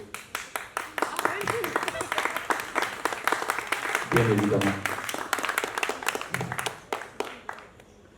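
Audience at a talk session breaking into steady applause, many hands clapping in a dense rhythm through most of the stretch, with a speaker's voice briefly heard over it.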